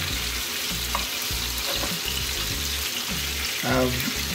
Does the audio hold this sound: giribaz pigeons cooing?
no